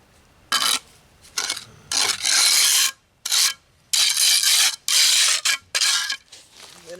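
Steel trowel scraping and working mortar on a stone patio installation, in repeated loud rasping strokes of about half a second to a second each, separated by brief pauses, close up with no talk.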